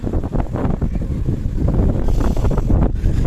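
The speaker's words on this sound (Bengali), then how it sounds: "আবার একটু হাওয়া দিচ্ছে, মানে ভালো জোর হাওয়া, গতিটা অনেকটাই আছে।" Strong gusts of Cyclone Remal batter a Kolkata rooftop, buffeting the microphone with loud, rough, continuous wind roar.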